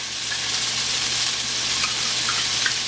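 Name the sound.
ginger garlic paste frying with onions in a pan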